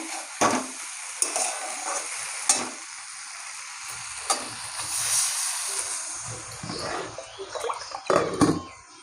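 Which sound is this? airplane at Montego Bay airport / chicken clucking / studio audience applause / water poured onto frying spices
water poured onto frying spices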